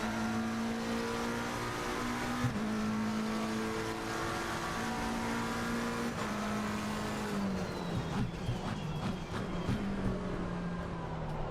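A McLaren 720S GT3 race car engine drones loudly at high revs at the Nürburgring in Assetto Corsa Competizione, pitch holding steady, dipping at gear shifts and sliding down under braking near the end.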